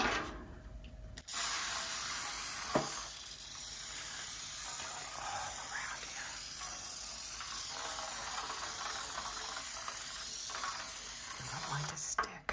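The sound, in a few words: Pam cooking spray sprayed into a baking pan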